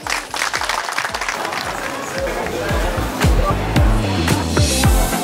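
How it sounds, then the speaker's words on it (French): Crowd applause at the inauguration of a renovated market in Sucy, steady clapping from a gathered outdoor audience with crowd chatter and thumping footsteps or knocks mixed in, moderately loud throughout. "soyez vraiment applaudis à nouveau"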